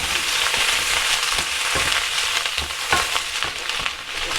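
Sugar snap peas and sweet corn fry in a hot pan, a dense steady sizzle punctuated by repeated scraping pushes of a spoon or spatula as they are stirred.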